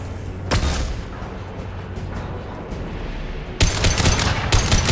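Gunfire bursts out in the Mass Effect 2 shooter game, with a heavy volley at the start, a quieter stretch of scattered distant shots, then another loud sustained burst near the end.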